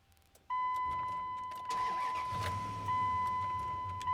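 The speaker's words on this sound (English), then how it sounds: "I'll start up the engine." A 1998 Dodge Ram 1500 pickup truck engine starts up, preceded by a steady electronic chime, then the engine catches and settles into a low idle rumble close by, with the chime continuing over it.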